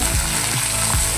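Shallots with tomato, green chillies and curry leaves sauté in hot oil for a fish curry: a steady close sizzle, with a few scraping stirs of the spoon across the pan.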